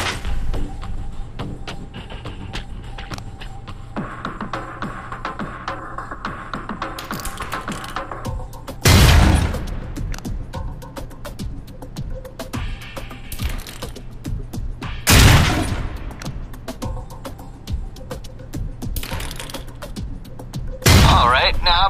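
Concussion grenades from the Alpha Protocol video game burst three times, each a loud broadband thump spaced several seconds apart, over a low steady game ambience with faint mechanical clicks between them.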